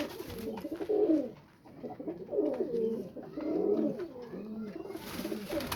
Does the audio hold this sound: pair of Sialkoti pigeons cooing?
yes